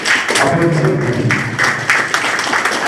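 Sustained applause from a conference audience at a debate event, dense steady clapping throughout with a few louder claps standing out and some voices mixed in underneath.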